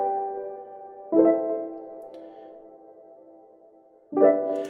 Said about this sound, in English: this is what the piano sounds like.